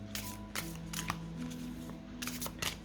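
Oracle cards being shuffled by hand, a deck smooth to the touch, giving soft repeated riffling and sliding bursts at close range over a faint background hum.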